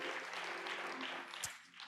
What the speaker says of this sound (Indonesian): Yang percaya beri tepuk tangan bagi Allah kita